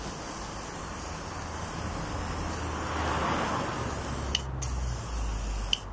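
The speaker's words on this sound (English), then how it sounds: "Just wants a little tiny bit of WD-40 sprayed on it." An aerosol can of WD-40 hisses in a steady, continuous spray onto a seized part of an old Stuart Turner P5M engine, close and fairly soft over faint background noise.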